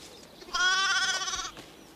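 A young lamb gives one clear, sustained bleat lasting about a second, close and alone over a faint background hush.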